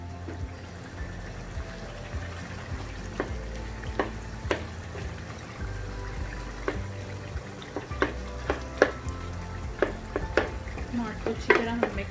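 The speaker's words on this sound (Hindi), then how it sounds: "अच्छी तरह हम मिक्स कर लेते हैं टमाटर्स को।" Tomatoes stirred into chicken karahi frying in a pan, with a steady low sizzle and repeated scraping clacks of a spoon against the pot, growing busier toward the end.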